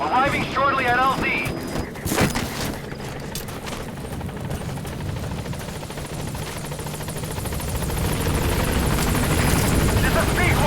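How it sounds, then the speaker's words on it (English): A support helicopter from Metal Gear Solid V arrives at a desert landing zone as a sandstorm blows in, its steady rotor and engine roar building under voice chatter and wind noise throughout. "Support helicopter has arrived."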